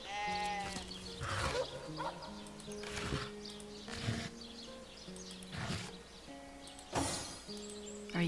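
Sheep in the video game Divinity: Original Sin bleat repeatedly, several wavering baa calls in an uneven rhythm over soft game ambience.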